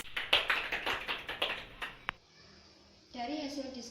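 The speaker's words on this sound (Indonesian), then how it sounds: "tepuk tangan buat kalian" A classroom of students claps briefly, a quiet run of distinct claps lasting about two seconds, followed by a short lull and then a voice speaking.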